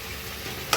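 Onions frying in a pan with a steady close sizzle that ends in a short sharp scrape or clink.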